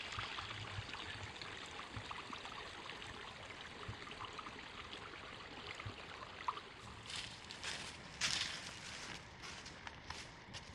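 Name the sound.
small stream flowing at a trail crossing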